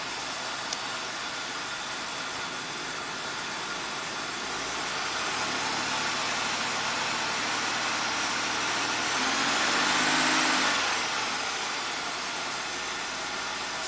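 A 1985 Oldsmobile engine idles with a steady, moderate hum. It swells slightly in the middle and near the end before settling back.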